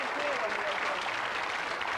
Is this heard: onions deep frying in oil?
no